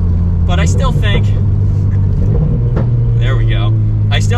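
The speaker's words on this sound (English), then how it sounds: "it actually has some pops in the exhaust as well, which is really nice to hear" A Toyota GR86 four-cylinder with an aftermarket exhaust rumbles loudly and steadily up close, engine drone shifting in pitch as it revs, while someone talks over it throughout.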